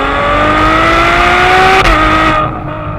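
A high-revving Ferrari engine screams steadily upward in pitch toward its limit near 8,900 RPM, close and very loud, then briefly drops as it shifts before fading slightly.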